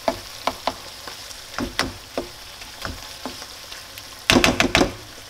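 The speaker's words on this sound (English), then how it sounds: "Give it a stir." Bolognese sauce with Worcestershire sauce being stirred in a frying pan: a steady sizzle broken by repeated scraping stir strokes, ending in a louder clattering burst of stirring near the end.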